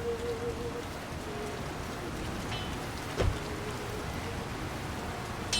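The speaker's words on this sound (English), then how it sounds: "Who could live in a town where it's always raining?" Steady rain falling in a town in the video game The Lord of the Rings: War in the North, an even hiss of drops pattering on surfaces, with a brief soft thump partway through and no talk.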